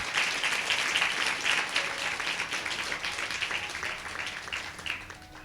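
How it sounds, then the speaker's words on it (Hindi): A church congregation at a Sunday service claps loudly and steadily, a dense wash of applause filling the whole stretch with little variation, while the faint murmur of a voice can be made out beneath it. "परमेश्वर के लिए एक बार जोरदार ताली बजाएंगे।"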